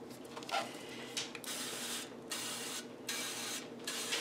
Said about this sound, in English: spray these pans